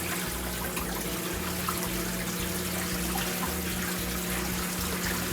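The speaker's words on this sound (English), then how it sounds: "we are getting good water flow coming out of the drain hose" Water flows steadily from the drain hose of a Samsung washing machine under test after a control board repair, a continuous close trickling wash with a low mechanical hum running beneath it.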